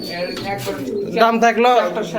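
Pigeons coo softly at a pigeon seller's house in Bogura, with low throaty calls in the second half and someone talking over them.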